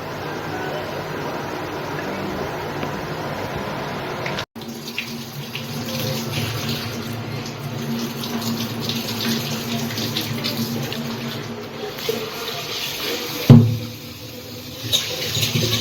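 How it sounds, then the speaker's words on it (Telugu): Tap water runs steadily into a sink while rice is being washed for a home-cooked meal, a continuous close splashing rush with a brief clunk near the end, and people talk in the background. "ఈ లోపల బియ్యం కడిగి పెడుతున్నారు మా అత్తమ్మ అన్నానికి."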